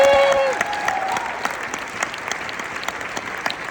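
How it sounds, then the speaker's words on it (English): An audience at a training event gives themselves a round of applause, steady clapping that starts loud and gradually thins out, with no talking over it. "give yourselves a round of applause"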